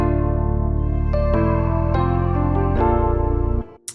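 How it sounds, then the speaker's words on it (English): Layered keyboard tones, a soft electric piano blended with acoustic piano, play sustained chords with a few higher notes on top; steady and fairly loud, no voices. "layer that E piano with an actual piano sound"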